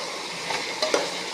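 Bottle gourd pieces sautéed in a pan for sambar give a steady soft sizzle with a few light stirring scrapes, close and continuous, no voices.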